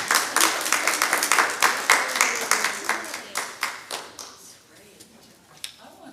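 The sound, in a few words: audience applauding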